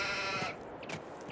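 A sheep bleats in Farming Simulator 22 near an animal dealer, a single short wavering bleat heard faintly, followed by a few soft thuds in the quiet background.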